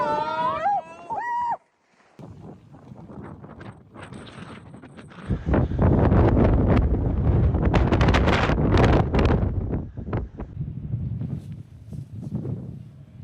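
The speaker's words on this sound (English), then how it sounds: "I don't even know if you can hear this because of the wind." Strong gusty wind buffets the microphone in heavy, roaring rumbles that swell to a loud sustained blast midway, with a brief whistling tone and a short dropout near the start.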